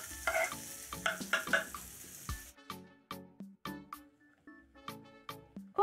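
Tomatoes cooking with onions and coriander in a pan for egg curry, a quiet sizzle under repeated clinking spoon strokes, with the sizzle fading partway through while the stirring knocks continue.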